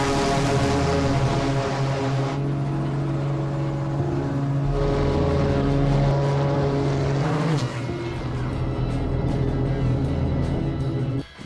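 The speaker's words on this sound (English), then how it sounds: "taking off in one tunnel and flying his race jet into and out of the second at 250 kph" A race jet plane flying into and out of a road tunnel at 250 kph; a loud, continuous jet roar whose pitch sweeps and shifts as it passes, with no talk.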